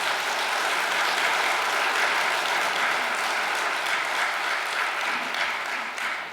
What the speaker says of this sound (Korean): 오늘 예배에 참석하신 노순호님께 응원의 박수 부탁드리겠습니다.